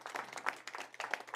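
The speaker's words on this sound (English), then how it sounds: "Y'all clap it up for that." An audience applauds a speaker being introduced at an event, with quiet, steady clapping from a modest crowd that sounds somewhat distant.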